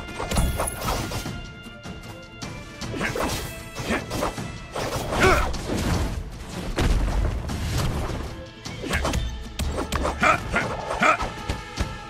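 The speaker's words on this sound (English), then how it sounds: "Oh, there's a bunch of penguin dogs." Penguin dogs in the video game My Time at Sandrock bark and yip in quick, overlapping bursts amid smashing and whacking combat hits, loud and continuous throughout.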